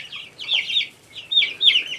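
Month-old chicks, including a Barred Rock, a Buff Orpington and a Silver Lace Wyandotte, peep and cluck in high, clear bursts close by, two short clusters of calls separated by a brief pause.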